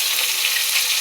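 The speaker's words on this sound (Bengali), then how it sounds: "আলুটা ভেজে নিলাম" Potatoes fry in hot oil in a pan, a steady, close, continuous sizzle with no voices.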